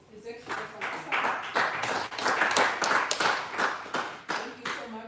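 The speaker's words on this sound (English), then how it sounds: "More round of applause to His Excellency Ambassador." Audience clapping for an ambassador at an Africa–Asia cooperation event, a sustained round of applause filling the room with steady claps, with a voice faintly mixed in.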